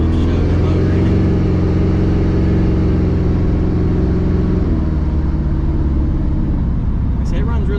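A Cutlass engine on 24-inch wheels hums steadily from inside the cabin while driving, dropping in pitch partway through as it shifts.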